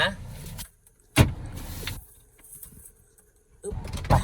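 Electric windows of a 2016 Toyota Corolla Altis 1.6G: a low motor whine as a glass pane slides, set between louder car cabin noise and bits of speech at the start and end.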